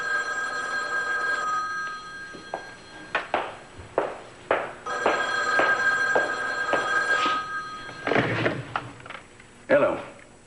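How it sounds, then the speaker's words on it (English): An old-fashioned telephone bell rings in a TV drama scene, its steady metallic ringing interrupted by bumps and clatter from nearby handling, with people talking around it. "I think maybe you should answer your phone."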